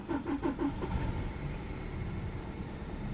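A BMW 318i E90 with a misfiring cylinder 3 cranks with a few quick starter pulses, then catches into a rough, low idle, close by and steady, with no voices.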